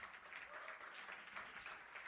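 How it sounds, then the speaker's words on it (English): A poetry slam audience applauds a poet after the scores are read, a brief burst of scattered clapping from a modest crowd, fairly faint and steady throughout. "Applaud the poet, guys."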